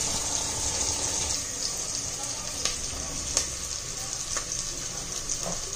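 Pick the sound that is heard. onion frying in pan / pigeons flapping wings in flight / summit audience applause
onion frying in pan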